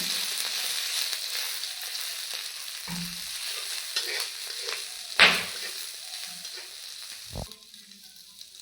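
Taro and other ingredients frying in a small amount of oil in a wok, a close steady sizzle broken by stirring scrapes, a sharp clatter near the middle and a knock near the end.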